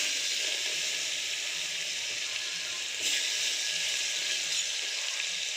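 Onion and turmeric frying in a pan at home, giving a steady, close, hissing sizzle that holds evenly throughout, with a slight surge near the middle and no voices.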